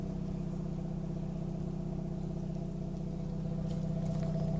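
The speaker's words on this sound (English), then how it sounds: "Exhaust sounds really good." A 2013 Dodge Dart engine idles steadily with a low, rumbling stock exhaust drone, constant and unchanging throughout, heard from close by.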